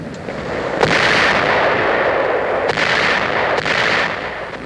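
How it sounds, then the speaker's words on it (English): A 1945 naval artillery bombardment of the southern Lingayen Gulf coast makes a dense, continuous roar of distant blasts, with a few sharper reports standing out at irregular intervals. "a 2-hour bombardment is concentrated on Lingayen Gulf's southern coast"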